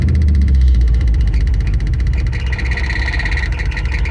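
A 1973 Ford F-250 engine idles loud and up close after its first start in 18 years, a steady rumbling throb with a rough, slightly uneven pulse and no voices.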